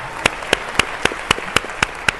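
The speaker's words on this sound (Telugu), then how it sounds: "ఎవరెవరైతే ఈ ఆన్సర్ చెప్పారో ఒక్కసారి గ్రేట్ రౌండ్ ఆఫ్ అప్లాజ్ అండి." Sharp, evenly spaced claps, about nine in a steady beat, ring out from an audience at a business seminar, each crisp and close with quiet gaps between them.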